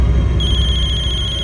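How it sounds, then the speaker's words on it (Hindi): A telephone rings loudly and close, its electronic trill pulsing rapidly without pause over a low background hum. "खबरी का फोन है।"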